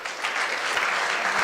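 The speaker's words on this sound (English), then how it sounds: "So let's welcome Varun with a huge round of applause." Steady crowd applause fills the space at a hackathon event as an audience welcomes a speaker to the stage, dense clapping held at an even level throughout.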